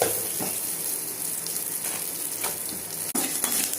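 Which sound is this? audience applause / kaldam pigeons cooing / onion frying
onion frying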